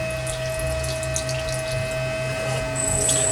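Water runs steadily over a whirring gem-cutting machine shaping an oval ruby, with a constant motor hum and tonal whine beneath the splashing.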